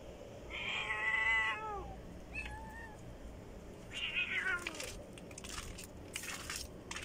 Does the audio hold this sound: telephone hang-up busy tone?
no